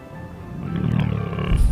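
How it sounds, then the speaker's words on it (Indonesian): A deep, rumbling roar from a large wild animal builds in loudness over a couple of seconds, growling and throaty. "terdengar suara raungan binatang buas"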